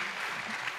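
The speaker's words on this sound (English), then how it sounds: "A more innovative round of applause for the DG." A round of applause for the DG at a knowledge-sharing forum launch, a brief burst of steady crowd clapping filling the room.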